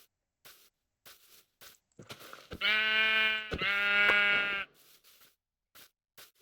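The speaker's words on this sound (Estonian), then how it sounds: "Lambad läheb üle." Sheep bleat in the video game Minecraft as two long, loud bleats back to back, set among sparse soft clicks and taps in an otherwise quiet scene.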